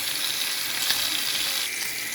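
Rohu fish frying in hot oil for a mashed fish dish, giving a steady, bright hiss that stays constant and fairly loud throughout, with no talk.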